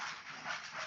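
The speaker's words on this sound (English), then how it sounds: "that's my dog" A dog panting close by during an online meeting, a steady breathy huffing that fills the short moment, with faint whimpering mixed in and no one speaking.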